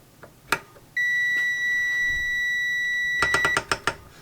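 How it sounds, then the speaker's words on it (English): Continuity beep from a Kaiweets HT208D clamp meter, sounding once the measured resistance drops below 30 ohms. A steady electronic tone holds for about two and a half seconds, with clicks and brief taps before and after it. "if the resistance then continues to fall to below 30 ohms, we then get a green indicator and the continuity beep"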